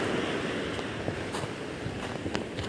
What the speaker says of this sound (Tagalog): yung alon medyo malaki-laki pa rin